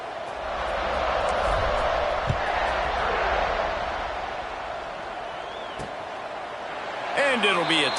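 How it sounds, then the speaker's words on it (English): A football stadium crowd buzzes loudly and steadily during a game after a score, a broad roar under a commentator's voice, with a sharp thump near the middle and a burst of louder voices at the end. "this crowd is buzzing after that last score"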